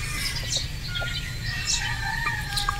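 Boston Roundhead brood stag rooster calls amid a busy farmyard of crowing and clucking fowl and other birds, with bird sounds scattered throughout over a steady low background.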